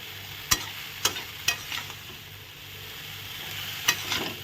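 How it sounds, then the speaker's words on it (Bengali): Freshly picked dhekia greens fry in a pan with a constant sizzle, broken by four sharp scrapes and knocks of a stirring utensil at uneven intervals. "এখন ভালো করে নাড়াচাড়া করে নিলাম"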